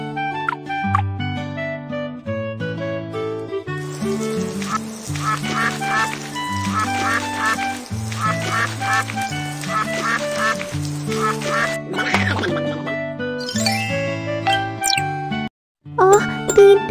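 Cartoon ducks quack in a bouncy animated children's show, repeated bright quacks set over a jingling, tinkling musical score that plays throughout, ending with a brief gap and a final burst.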